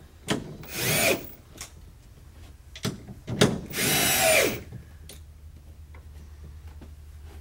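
Power drill tightening a full-motion TV wall mount against the wall, two loud whirring bursts close by, separated by a few short clicks and taps, with no talk.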